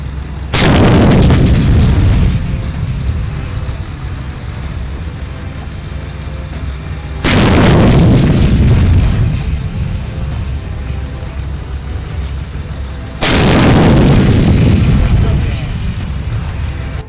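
Indian Army BMP-2 guns firing on a field firing range in the desert, three loud heavy booms spaced several seconds apart, each with a long rumbling decay, no talk over them.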